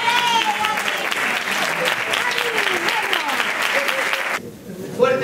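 Strong audience applause welcoming a performer at a live music show, dense clapping and cheering throughout, with a voice speaking over it before the clapping drops away near the end.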